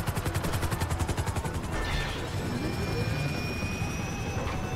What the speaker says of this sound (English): that helicopter just spawned in